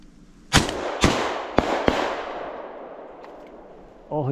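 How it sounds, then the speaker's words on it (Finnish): Shotgun shots fired at pigeons on the opening day of a pigeon hunt ring out outdoors as four loud, sharp blasts in quick succession, each with a rolling echo, followed by a voice at the end. "Ensimmäinen paukku ammuttu ja ohi."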